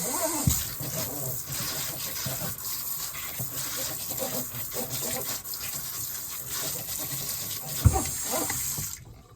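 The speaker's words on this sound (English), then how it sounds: "Cold water." Cold tap water runs steadily into a sink, a continuous splashing rush with a couple of brief knocks near the start and end.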